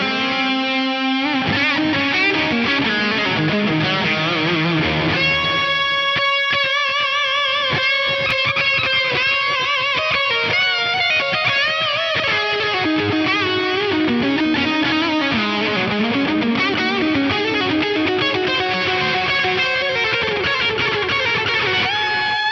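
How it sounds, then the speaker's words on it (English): A distorted electric guitar through a Carvin Quad-X tube preamp plays a sustained melodic lead, notes trailing into echoing delay repeats and a wash of reverb, loud and continuous. "Let's just kick in that delay and a little bit of reverb and hear this lead tone."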